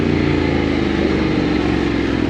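A Honda X-ADV 750 motorcycle fitted with a slip-on exhaust and baffles, not a full system, gives a loud, steady, throaty engine drone that holds even throughout, with no one speaking.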